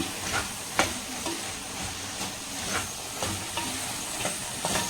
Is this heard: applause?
no